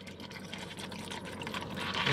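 Haitian fruit champagne soda poured into a glass, a steady liquid fill that builds slightly in loudness over about two seconds, close up with no talking.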